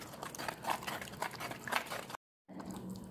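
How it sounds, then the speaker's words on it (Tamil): Tamarind pulp is stirred in half a glass of water, giving soft, close liquid sloshing and squelching for about two seconds, then a short silent gap before a quieter murmur resumes. "ஒரு அரை கிளாஸ் தண்ணி சேர்த்துக்கலாம். திரும்ப அது மாதிரி கலக்கி விட்டுக்கலாம்"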